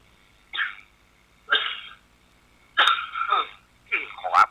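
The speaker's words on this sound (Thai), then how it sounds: "ช่วงนี้ มันจะมีเสียงกระแอมกระไอตัวพ่อง สุมาเตอะ ก็เนื่องจากไข้หวัดนั่นนะพระญาติโยมเผย" Four separate bursts of throat clearing and coughing from a monk with a cold, close and fairly loud, each harsh rasp separated by short silences and with no speech between them.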